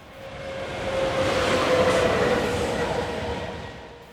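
A French BB 26000 electric locomotive hauling a train passes with a steady broadband rumble that swells and fades over a few seconds, a faint high whine running through the middle of the pass.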